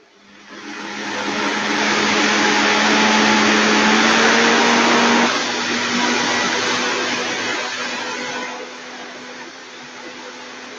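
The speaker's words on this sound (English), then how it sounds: "It doesn't take very long in this Vitamix." A Vitamix blender runs loud and steady on a full container of mac and cheese sauce, its motor roaring alone without speech and easing down slightly toward the end.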